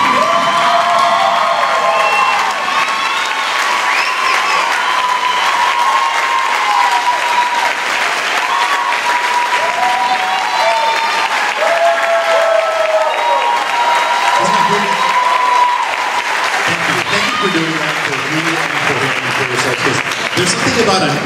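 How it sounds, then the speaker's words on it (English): A standing audience at a women's empowerment mastermind event in San Antonio gives loud, sustained applause with cheering and whoops, clapping continuously for about twenty seconds while voices shout over it. "I want you to stand up and give Porfirio a roaring applause."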